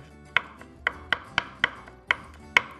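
Garlic cloves being finely chopped with a knife on a cutting board, seven crisp, evenly spaced chops, clear and close in an otherwise quiet kitchen.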